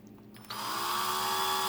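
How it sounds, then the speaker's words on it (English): A power drill spins up to speed with a bolt chucked in it to hold a model car tire, giving a steady, close, rising whine that starts abruptly after a brief quiet moment. "then we just chuck it up. In your drill"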